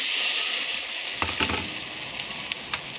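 Broth ladled into a hot pan of sautéed masala hisses in a steady broadband sizzle, with a few sharp splashes and clatters around the middle and near the end; no voices.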